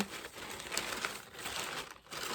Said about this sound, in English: I'm just crumpling this gently, turning this around on the base here